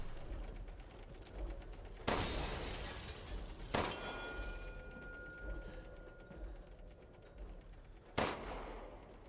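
Gunfire in Resident Evil Village inside Castle Dimitrescu, several sharp loud shots spaced a couple of seconds apart with mechanical clatter and ringing tails between them, no talking.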